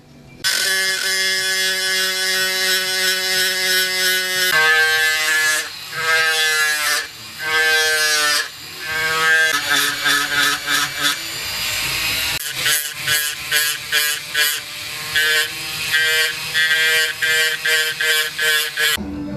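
A rotary tool spins a small sandpaper disc, giving a loud, close, whining buzz whose pitch rises and dips as the load changes, breaking into quick stuttering pulses near the end, with no voices.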